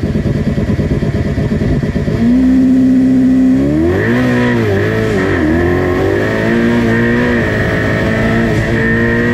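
A Ferrari F8 Tributo launches hard, its engine climbing through revs with a brief dip at a gear change before pulling strongly again, loud and close from inside the cabin.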